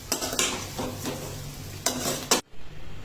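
Spices for a vaghar tempering sizzle in hot oil for dhokla, with a steady frying hiss broken by a few louder bursts of stirring before the sound cuts off abruptly near the end.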